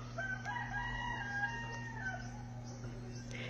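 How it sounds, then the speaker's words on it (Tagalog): A rooster crows outside alongside clucking chickens, a drawn-out crow and scattered clucks heard at moderate distance over a steady low electrical hum. "Ayun yung manok ko nandun sa labas."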